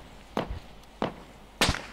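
Three sharp gunshots from the military video game Arma 3, spaced well apart and moderately distant, cracking out evenly with quiet gaps between them and no talking.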